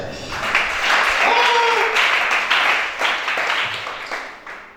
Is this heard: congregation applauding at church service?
yes